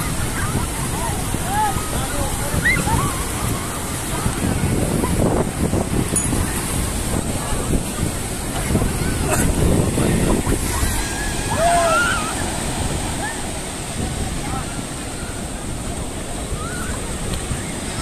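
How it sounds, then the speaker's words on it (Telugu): Sea waves surge and crash steadily at Rushikonda beach in Vizag, a broad continuous roar of surf with gusts of wind buffeting the microphone, and distant voices scattered through it. "వేవ్స్ అవి కూడా చాలా ఎక్కువగా తోసేస్తున్నాయి"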